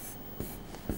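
Marker or chalk strokes on a board during a maths lesson on fractional exponents, with a few short scraping strokes, one near the middle and one at the end, over low room hiss.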